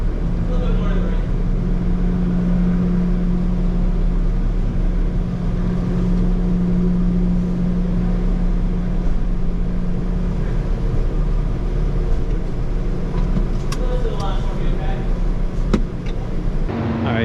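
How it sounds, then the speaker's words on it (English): A car aboard the Cross Island Ferry from New London, Connecticut, a steady loud engine and vessel rumble with a low drone throughout, a few faint clicks near the end. "we just loaded our vehicle on the Cross Island Ferry"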